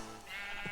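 Sheep bleating in the video game Minecraft: a single short, nasal bleat, fairly clear, on its own with no talking.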